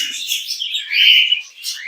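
Several small caged birds chirp and tweet close by in quick, overlapping high calls, with no other sounds around them.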